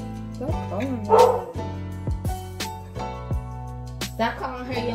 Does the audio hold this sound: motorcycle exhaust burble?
no